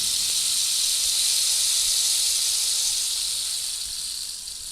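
A long stick instrument filled with small pebbles, rice and dried beans gives a steady hissing rush of trickling grains. The sound is sustained, fairly loud and close, and fades slightly near the end, with no voices.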